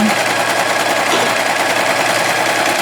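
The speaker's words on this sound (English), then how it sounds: "sew right on those lines" A sewing machine stitches straight along drawn lines on a small quilted mug rug, a loud, close, continuous rapid mechanical whir and chatter that holds steady throughout, with no speech.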